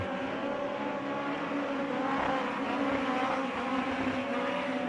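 A USAC midget race car at Red Dirt Raceway roars past the flag stand. Its engine drones loud and steady with a fairly even pitch, with no voices.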